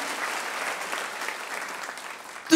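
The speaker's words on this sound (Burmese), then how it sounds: "လက်ခုပ်တီးလက်ဖခင်ကိုချီးမွမ်းရအောင်" A church congregation claps in praise during a worship sermon, a dense, sustained round of applause that ends with a sudden louder knock.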